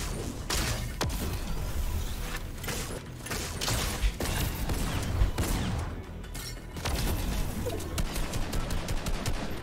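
Dual pistols firing in Fortnite, rapid bursts of sharp shots rattling over busy game noise, rhythmic volleys continuing throughout at moderate loudness.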